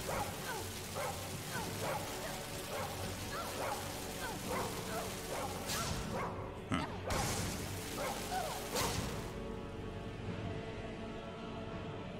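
Barbas, the talking dog from the video game Skyrim, yips, barks and whimpers in a run of short repeated cries, with a couple of whooshing sounds and game ambience around them.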